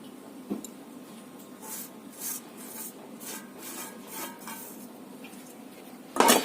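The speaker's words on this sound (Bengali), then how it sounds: "এখন ভালো করে আমি মিশিয়ে নেব" Coconut batter with turmeric, salt and gram flour being mixed in a bowl: repeated rubbing, scraping strokes in a steady rhythm, close and fairly quiet, ending with a sharper clatter against the bowl.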